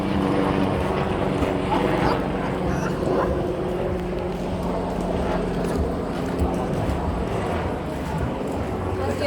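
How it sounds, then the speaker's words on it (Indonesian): Helicopter passing overhead outdoors, a steady broadband rotor and engine drone holding fairly loud throughout, with people chatting and children's voices over it. "Wah, ada helikopter."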